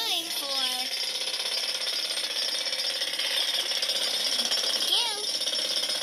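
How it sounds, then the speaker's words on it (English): A jackhammer runs continuously in a children's cartoon construction scene, a dense, loud, steady rattling hammer, with a voice briefly heard over it at the start and near the end. "Using this jackhammer."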